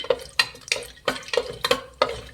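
Whole spices such as cinnamon and cardamom frying in hot oil for a bachelor-style egg biryani, heard as a run of sharp, close, regular stirring clinks and scrapes over a light sizzle, with no voices.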